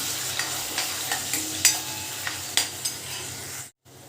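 Tomato, ginger, garlic, coriander and garam masala fry in hot oil, a steady sizzle broken by a spoon scraping and clicking against the pan every half second or so, close and moderately loud, ending in a brief cut to silence.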